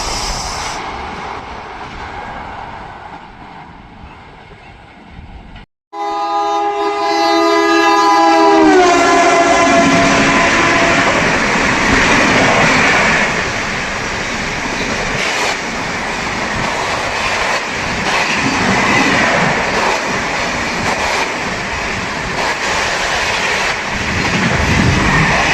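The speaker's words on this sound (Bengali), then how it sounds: "শতাব্দী এক্সপ্রেস।" The Howrah–Bhubaneswar Shatabdi Express races through a village station at speed, sounding a long, loud multi-tone horn before a sustained roar and rumble of coaches passing close by.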